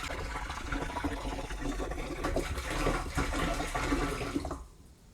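Liquid pours steadily from a container into a garden air sprayer, a litre of concentrate for treating grapevines, with a continuous splashing gurgle that runs for about four and a half seconds and then stops abruptly.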